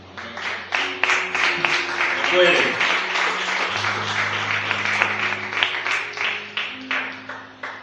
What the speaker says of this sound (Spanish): Aplauda al rey.